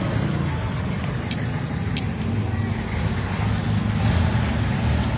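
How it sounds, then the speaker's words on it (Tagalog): Steady roadway noise from many passing cars and vehicles fills the scene, a continuous broadband rumble that swells slightly toward the end, heard outdoors during fish grilling with no speech over it. "Daming mga sasakyan."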